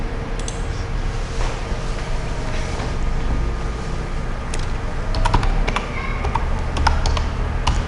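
Computer keyboard keys click in Notepad, scattered taps growing busier toward the end over a loud, steady background rumble.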